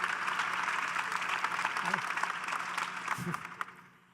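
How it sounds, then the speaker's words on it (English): An audience claps for Admiral James Stavridis at a talk on global security, a steady, moderately faint round of applause that slowly tapers, with a voice briefly speaking over it. "I didn't want to usurp the applause"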